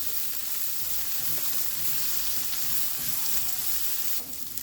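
Chopped garlic hits a hot pan of vegetable stir fry and sizzles loudly and continuously, a close, bright hiss that thins briefly near the end.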